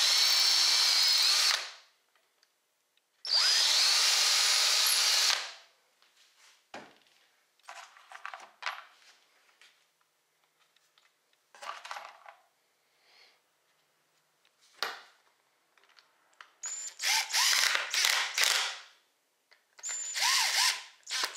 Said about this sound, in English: it might be a good idea to drill a hole into these supports as well